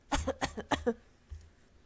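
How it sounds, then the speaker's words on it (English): Okita, a character in the Hakuoki video game, coughs in a fast run of four or five harsh, close hacks, then gives one fainter cough after a short pause, with no speech. "For a little while he coughed as if his lungs were going to collapse."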